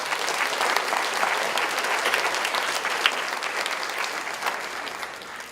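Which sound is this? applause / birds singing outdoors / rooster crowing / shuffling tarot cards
applause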